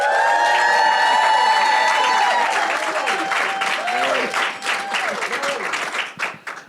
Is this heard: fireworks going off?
no